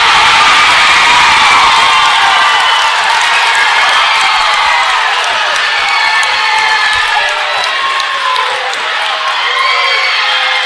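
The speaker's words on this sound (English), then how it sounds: "you're going to hear the crowd erupt" A crowd at a high school wrestling dual meet cheers and shouts loudly and continuously, with whoops, some clapping and children's voices rising and falling throughout.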